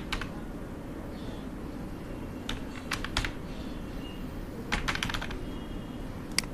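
Computer keyboard typing as a Gmail address is entered into a form: irregular bursts of sharp, close key clicks with short pauses between them and no speech.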